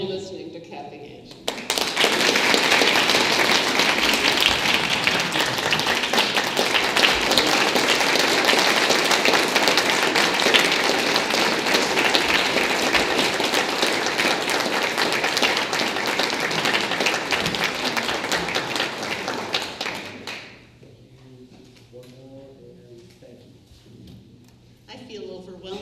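Loud, dense applause from an audience at a distinguished alumni awards ceremony honoring an alumna, sustained for about twenty seconds before fading quickly, followed by a brief quiet stretch with the start of speech.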